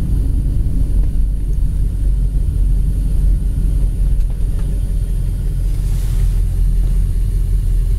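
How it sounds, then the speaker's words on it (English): A tan 1966 Ford Thunderbird engine idles with a steady, loud low rumble that holds even throughout, heard close up with no talking. "Car idle's nice."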